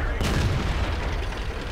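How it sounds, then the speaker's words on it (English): British FB-304 artillery shell striking a tank in World of Tanks, a heavy low boom with rumbling gunfire-like impact that stays loud and dense throughout, no talk over it. "we get hit from left from the FB-304, which is that British artillery"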